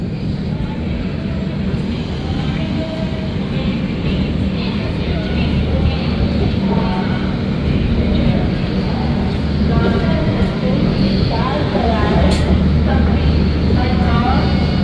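A Kolkata–Jaynagar Express pulls out of Darbhanga Junction, a steady loud low rumble of rolling wheels and carriage noise running throughout, with faint voices mixed into the din.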